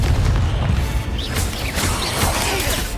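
Confringo fire spell exploding in Hogwarts Legacy: a dense, loud, rumbling blast that fills the whole moment with heavy low booming and crackle, with no clear gaps.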